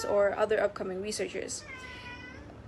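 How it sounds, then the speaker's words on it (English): A cat meows a couple of times in drawn-out, wavering calls, close by and fairly clear, right after a person finishes speaking. "Sorry for my cat."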